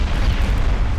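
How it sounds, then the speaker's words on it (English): A torpedo detonates in the naval video game Ultimate Admiral: Dreadnoughts as a short, heavy, rumbling boom with dense low-end roar that fills the whole moment. "Torpedo detonation."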